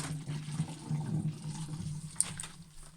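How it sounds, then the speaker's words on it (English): Water swirls in a tornado-in-a-bottle vortex, a steady low gurgling rush that churns continuously, with one brief sharper splash or clink near the end. "By giving my bottle a swirl, I'm forcing the water to the outside of the bottle"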